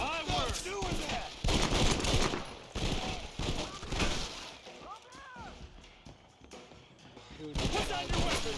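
Gunfire in Red Dead Redemption (2010), repeated bursts of loud shots and volleys in uneven clusters, mixed with voices speaking between and over the firing.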